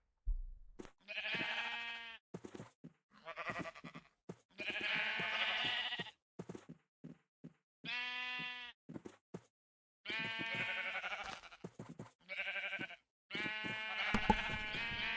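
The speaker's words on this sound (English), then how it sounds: "Let's hang out with some sheep." Sheep in the Minecraft video game bleating repeatedly, with several long wavering baas spaced by short gaps, clear and fairly loud with no talk over them.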